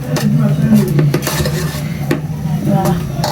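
Broth made from meat juices diluted with water is stirred in a pot, a close busy clatter of utensil against metal with scraping and knocks throughout, with a low hum underneath.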